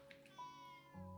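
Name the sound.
cat meowing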